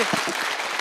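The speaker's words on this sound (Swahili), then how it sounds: "Tumpigie pass makofi mema zaidi" A short, loud burst of crowd applause at a public security forum in Kakamega County, Kenya, lasting under a second of dense clapping.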